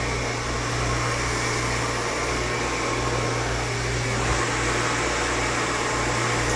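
A blow dryer runs steadily on natural hair during a silk press, its airflow a constant, close broadband whoosh with a low motor hum underneath, held without pause and no talking.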